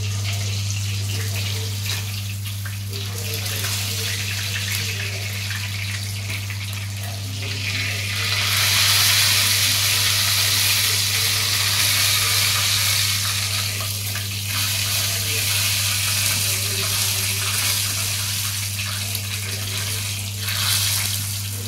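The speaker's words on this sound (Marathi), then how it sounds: "एकदम मस्त फ्राय झाल्या बघा" Chilapi (tilapia) fish frying in hot oil in a home kitchen, a steady crackling sizzle with a louder hissing burst midway, over a constant low hum and faint background voices.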